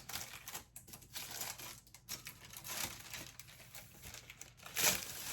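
A paper record sleeve from a Christmas vinyl release is handled close up, with continuous crinkling, rustling and soft crumpling, a brief sharper crackle near the end.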